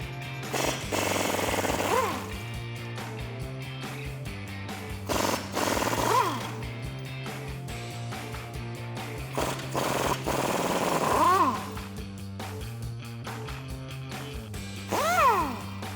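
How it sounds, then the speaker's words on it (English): A power tool with a 19mm socket spins factory nuts off a 2007-2021 Toyota Tundra during a lift install, sounding as repeated rattling impact bursts of a few seconds each, close and fairly loud with no talk. "We're going to use a 19mm socket to get our factory nuts out of here."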